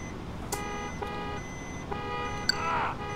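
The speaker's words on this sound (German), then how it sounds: "Hupen." Horn honks from a garbage truck in the Müllabfuhr-Simulator 2011 video game: several short tonal toots spaced about half a second apart, moderately loud over a steady engine hum.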